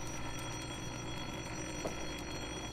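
A telephone rings in an old-time radio thriller, a faint, brief bell tone sitting over a hum-laden, low-fidelity background.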